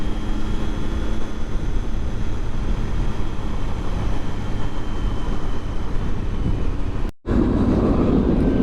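A continuous low rumble of a train rolling past nearby, steady and loud, with a brief dropout near the end.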